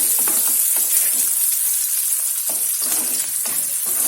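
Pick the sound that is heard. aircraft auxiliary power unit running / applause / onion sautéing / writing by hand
onion sautéing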